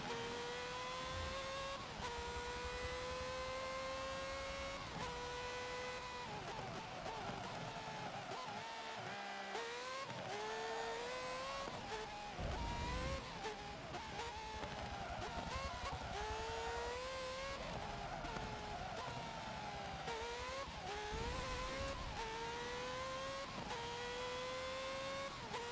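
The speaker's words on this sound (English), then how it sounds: "I've got a 1990s Ferrari F1 car, the Alain Prost car, and I'm racing it around Mugello." A 1990s Ferrari Formula 1 car, Alain Prost's car, laps Mugello in Forza Motorsport 7, its high-revving engine screaming continuously as it climbs through gears, with repeated downshifts, tire squeal and steady loud racing noise throughout.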